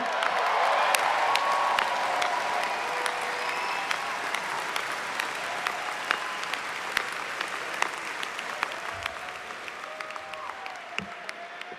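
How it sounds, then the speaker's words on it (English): Audience at a college commencement ceremony applauds at length, a dense wash of clapping that starts strong and gradually thins into scattered individual claps, heard from within a large crowd. "Can we give them a round of applause again?"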